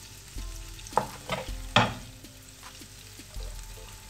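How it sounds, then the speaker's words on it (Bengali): Chopped onions fry in melted butter in a pan, a soft steady sizzle with a few louder scrapes and clanks from stirring, and no talking. "পেঁয়াজটাকে একটু নরম করে ভেজে নিতে হবে।"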